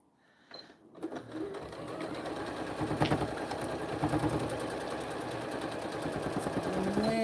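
A sewing machine stitches a vinyl zippered pouch: a brief quiet start, then the motor's rapid mechanical whir settles into a steady, continuous run, close by and without talking.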